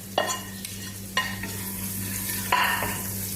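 Egg and fried rice sizzle steadily in a hot pan, with three sharp scraping stirs of a spatula cutting through the constant frying hiss and a low steady hum beneath.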